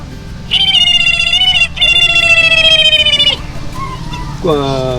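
Someone mimics a kingfisher with two long, shrill, rattling trills, followed after a pause by a shorter, lower trill.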